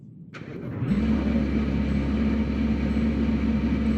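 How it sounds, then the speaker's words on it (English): A car in the Greenville video game starts up: a short starter crank gives way to a steady, low idling engine that drones on evenly at close range. "we're going to go outside now and start the beautiful car here"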